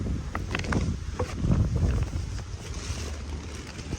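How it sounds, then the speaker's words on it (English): Strong gusty wind buffets outdoors, a rough roaring rush across the whole stretch, rising and falling in intensity with no one speaking. "It's way too windy."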